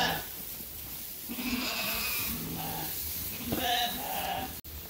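Sheep bleat on a sheep farm, several wavering calls rising and falling over a few seconds at moderate distance, with faint outdoor background between them.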